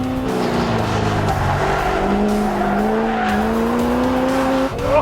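An '85 C4 Corvette kart's tires squealing loudly and continuously as it is driven hard, with the engine's drone running underneath the sustained screech for several seconds.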